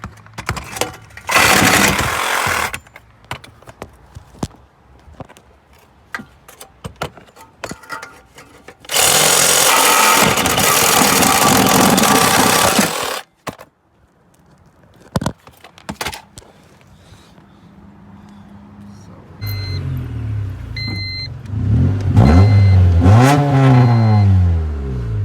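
A wagon's car engine, run with its exhaust broken off, roars in loud bursts of revving separated by quieter idling and clatter, then builds into rising, rasping revs toward the end.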